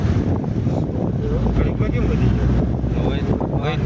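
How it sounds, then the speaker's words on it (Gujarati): Strong wind buffets the microphone in a steady, roaring rumble throughout, with a voice faintly audible beneath it. "यहाँ देखो पवन कितना है."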